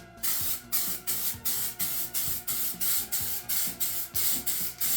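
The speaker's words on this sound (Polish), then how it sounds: "Nie no, spray do tekstyliów, no to powinno być git." Textile spray misted onto the rear parcel shelf of a Mercedes car, about a dozen short rhythmic hissing bursts in quick succession, close and clear with no talk.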